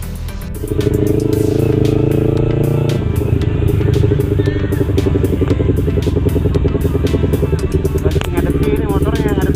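A touring motorcycle engine runs loud and close, its steady idle thrum shifting pitch as it revs, with rapid mechanical clatter and rattles over the top.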